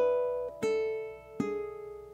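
A ukulele plays bar 4 of a rock riff, with a few plucked, ringing chords struck in quarter notes, each sustaining and decaying into the next, clear and alone.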